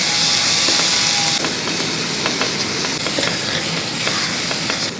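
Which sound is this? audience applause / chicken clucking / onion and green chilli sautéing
onion and green chilli sautéing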